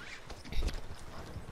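Horse hooves clip-clop steadily in a video game, a quick even rhythm of close, soft thuds, with one louder strike midway and faint game noise around it.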